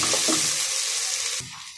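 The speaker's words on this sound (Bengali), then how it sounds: "রসুন বাটা দিয়ে দিলাম, ভালোভাবে একটু নেড়ে তারপর সবজিগুলো দিয়ে দেব" Onion and garlic paste frying in hot oil, stirred in a pan, giving a steady close sizzle with a few scraping stirs early on, then a sudden drop to a quieter hiss near the end.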